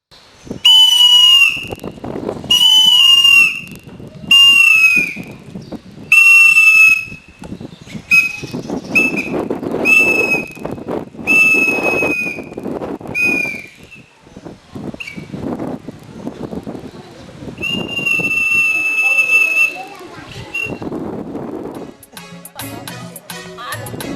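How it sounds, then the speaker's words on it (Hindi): Repeated sharp, loud blasts of a police duty whistle in short bursts, with a longer trill near the end, over background activity and some voices. "इसलिए हमारा सीटी बजता रहेगा"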